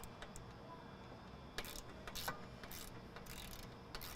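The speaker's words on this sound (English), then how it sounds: "taking a 13 mil and getting these bolts out for the strut brace" On a Ford Explorer ST, a 13 mm socket wrench ratchets strut brace bolts loose in short, faint bursts of metallic clicks against a quiet background.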